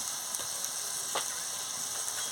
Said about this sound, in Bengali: এবার আমি সর্ষে বাটা দিয়ে দিচ্ছি জলে গুলে,